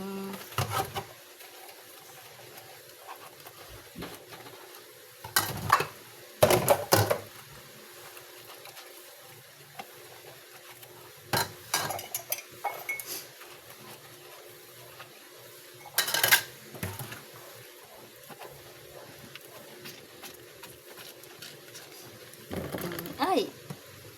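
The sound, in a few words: washing plates and dishes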